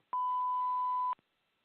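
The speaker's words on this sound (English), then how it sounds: "Please leave your name and phone number after the beep." A single sustained electronic answering machine beep of about one second, clear and steady, with silence after it.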